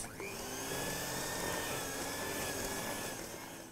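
Egg mixture being mixed into a refined flour mixture for an orange cranberry wheat germ loaf, heard as a steady, loud whirring drone that runs unbroken from start to finish.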